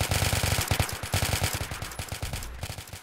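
Automatic gunfire in a multiplayer shooter video game, rapid bursts of shots in quick succession, loud and continuous for a few seconds with no talk over it.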